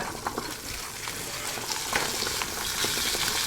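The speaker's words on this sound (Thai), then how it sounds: "เสียงทอด" Video game food sizzles and crackles steadily in hot oil, a continuous frying hiss with scattered pops, heard up close.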